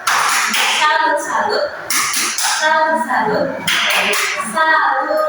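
During a microteaching lesson, a classroom of students performs the "tepuk salut" clapping chant, with loud rhythmic group chanting punctuated by bursts of clapping in several close repeated phrases.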